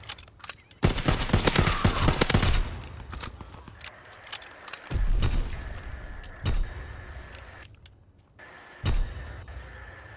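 Gunfire in Call of Duty WW2: bursts of rapid shots early on, then scattered single heavy reports and short volleys separated by quieter gaps, fairly close and loud, with no talking.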